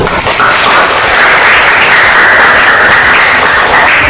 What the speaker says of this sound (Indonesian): Kita berikan aplaus untuk kelompok 1.